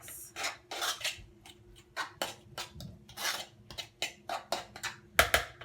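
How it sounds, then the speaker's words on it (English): Guacamole being mixed with fresh lime in a bowl, giving repeated scraping, squishing strokes of a utensil against the bowl in an irregular rhythm, close and fairly quiet with no voices. "so now we added half of another lime and giving it another"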